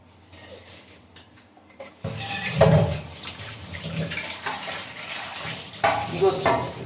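A dirty pan from frying eggs is scrubbed under running tap water, with a steady splash and rubbing scrape after a quieter start and a few clinks.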